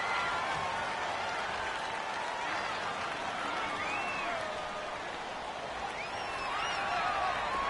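Dense stadium crowd roar at a football game with the home crowd loud against the visiting offense, a steady wash of cheering and whistles with faint announcer talk underneath.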